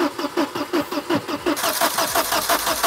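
An old Volvo engine, unstarted for ten years, cranks with a rapid rhythmic churning from the starter motor, then catches and begins to run, loud and close.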